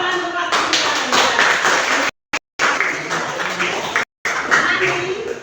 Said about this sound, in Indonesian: tepuk tangan untuk kelas 7A